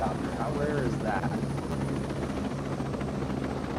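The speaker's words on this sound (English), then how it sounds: "I'm flying pretty high over it in a helicopter" Helicopter flying high in Tom Clancy's Ghost Recon Breakpoint, a steady rotor and engine drone filling the whole stretch while someone talks over it.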